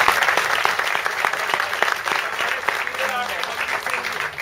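Crowd applause after a Hindi stage play, steady and fairly loud with clustered claps throughout, a few voices faintly audible beneath.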